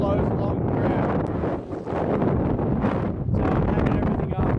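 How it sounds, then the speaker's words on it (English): Strong wind gusts buffet the microphone at a riverside campsite, a loud continuous roar with brief dips, close and rumbling throughout, and no clear speech over it. "That's an idea of how windy it is."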